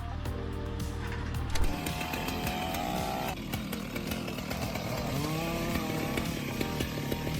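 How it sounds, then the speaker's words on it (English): A chainsaw cuts a tree during logging in a forest, its engine revving high and loud with a steady droning whine that shifts in pitch as the blade bites into the wood, sustained throughout. "The forest rings again with that familiar, high-revving buzzsaw symphony as our loggers face off against another leafy skyscraper."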